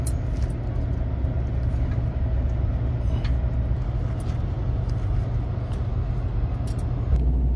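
A Freightliner Cascadia semi truck engine runs at a steady idle during injector troubleshooting, a continuous loud low rumble with faint intermittent ticks and no talking.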